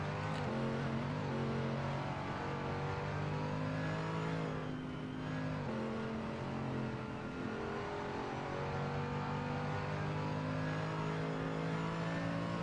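Race car engines roar in a sim racing game at Barcelona-Catalunya, with several cars revving hard and downshifting under braking into turn one, a loud continuous whine with shifting pitch.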